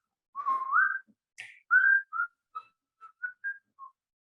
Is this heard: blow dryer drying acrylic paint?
no